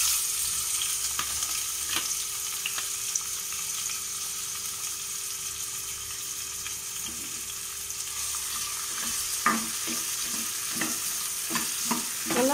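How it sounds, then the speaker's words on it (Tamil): Two large chopped onions sizzle and fry steadily in a pan for green gram curry, with scattered stirring scrapes and clinks, fairly close and continuous, no talking. "இப்போ வெங்காயம் போட்டுடலாம்."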